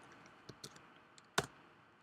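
A value is typed on a computer keyboard: a few sparse, light key clicks, close and quiet, with one sharper tap near the end.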